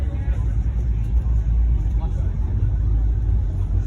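A V8 truck engine idles with a deep, steady rumble close by at a cars and coffee meet, loud and unbroken throughout.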